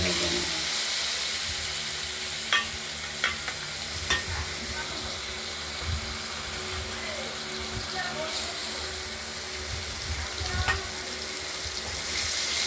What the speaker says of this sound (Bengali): এইবার আলুগুলোকে ভেজে নেব